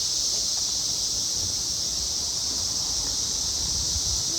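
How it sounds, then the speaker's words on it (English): Loud cicadas drone in a continuous, even high-pitched buzz near waterfalls and cliffs, with a low rushing wash beneath it and no pause. "Y'all hear the cicadas?"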